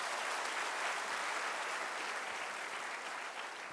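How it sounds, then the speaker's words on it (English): Sustained applause from an audience at a college freshmen induction, a steady wash of many hands clapping at moderate distance, easing slightly toward the end. "Give a good round of applause for him."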